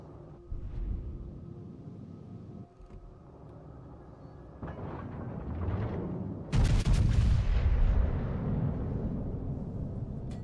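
Naval artillery fire in World of Warships: Legends, heavy cannon booms rolling in, with a big loud salvo burst midway that decays into a long rumbling tail.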